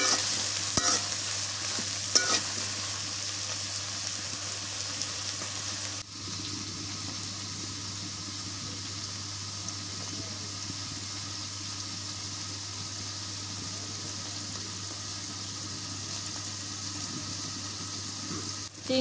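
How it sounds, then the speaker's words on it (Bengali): Shrimp frying in a pan, browning while being stirred: a steady, close sizzle and hiss runs throughout, louder and busier in the first six seconds with stirring scrapes, then settling into an even fry. "চিংড়ি মাছটা একটু ভালো করে ভাজে নিই, লাল লাল করে নিই।"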